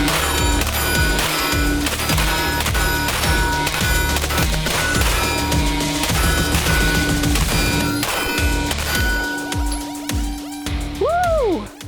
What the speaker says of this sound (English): The Smith & Wesson, we're shooting 9mm.